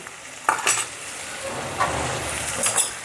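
Sabudana khichdi being stirred in a pan, a soft sizzle underneath with a few distinct scraping strokes of a spoon against the metal, close by, no voices.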